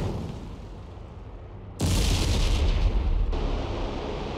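Bombs burst in woodland in the IL-2 Sturmovik flight game, a sudden loud deep explosion over a low engine drone, then a rumbling roar that fades slowly.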